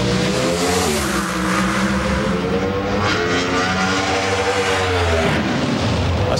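A Pro Stock drag racing car roars down the track during qualifying at the 2005 NHRA U.S. Nationals: a loud, continuous, harsh engine howl with rising and shifting pitch, close and dominant throughout.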